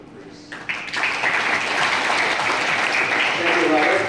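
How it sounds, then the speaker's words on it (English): A room full of people at a WordPress plugin development talk in New York City breaks into applause for the incoming presenter, the clapping swelling after a quiet start and holding steady and loud to the end. "everybody give a big round of applause for Bruce"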